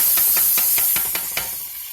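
Chopped peppers and garlic hit a hot pan with cayenne, setting off a loud, steady hiss of sizzling oil close to the microphone, with small crackling pops pulsing through it.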